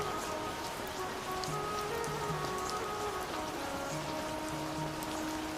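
Heavy rain pours steadily onto a surface in fog at Kartik Swami Temple in the Uttarakhand mountains, a dense continuous hiss of drops with no pause, close and fairly loud.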